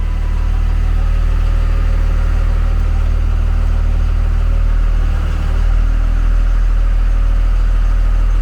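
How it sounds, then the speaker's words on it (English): A second-generation 5.9 Cummins diesel truck engine idles steadily with a deep, even low rumble, close and loud, with no voices. "We're idling nice and smooth."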